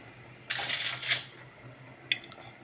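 Metal utensil scraping and clinking against a pot while curry is stirred, a cluster of scrapes followed by a brief second clink, fairly faint in a quiet kitchen.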